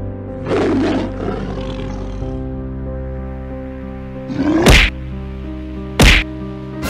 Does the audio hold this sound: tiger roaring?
yes